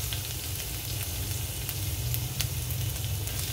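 Ginger sizzling in hot oil in a pan, a loud, continuous crackling hiss with faint spitting pops throughout and no voices.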